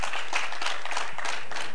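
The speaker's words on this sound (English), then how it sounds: "so we won't mind a round of applause" An audience at a literary fair claps in a dense, sustained round of applause, loud and close, with no voices standing out.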